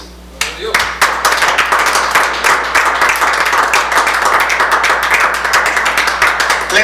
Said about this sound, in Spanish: Den el aplauso a Cristo.